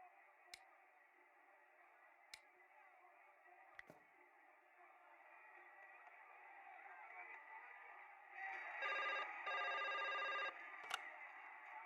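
An old-style telephone rings in the video game Broken Sword 5, two loud bursts of ringing near the end over a steady hum of background ambience, with faint clicks earlier.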